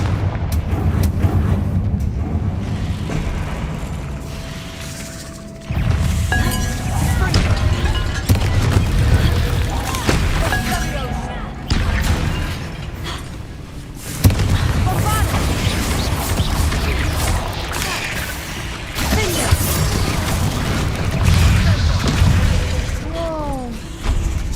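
Repeated heavy fiery explosions from the Confringo blasting spell in Hogwarts Legacy, booming several times amid dense game noise and crashing debris.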